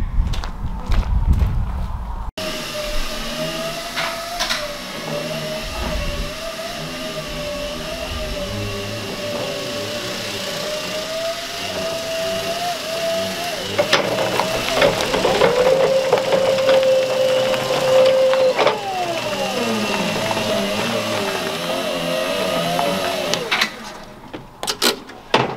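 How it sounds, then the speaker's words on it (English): Forklift engine runs at a steady idle and revs as it hauls on a chain attached to a part of a T34/85 tank, with clanks and rattles of metal under strain, growing louder midway before settling back. "we'll get the forklift, put the chain on there, and we'll either pull this back or we'll do a mad skid with the forklift trying to do it"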